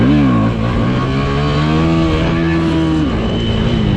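A motorcycle engine revs hard near the mic, its loud, steady harmonic drone climbing and holding high, then dropping slightly near the end, with no talk.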